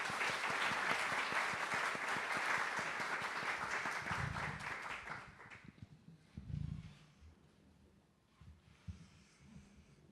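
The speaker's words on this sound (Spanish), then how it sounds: "Pido recibamos con un fuerte aplauso a nuestro invitado" An audience at a university lecture gives a guest speaker loud, dense applause that goes on steadily for about five seconds and then fades, leaving a few low thumps and room noise.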